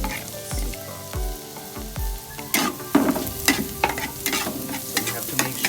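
Garlic sizzling and frying in butter in a pan, with stirring scrapes and clatter over a steady crackling sizzle; three low thumps early on, then busier stirring clicks and spatters, close and fairly loud.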